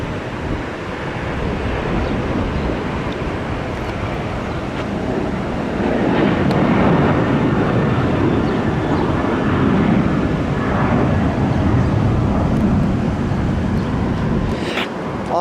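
A jet airplane taking off at SeaTac Airport, heard as a steady, loud broadband roar that swells and holds, mixed with wind rush from an open parking garage.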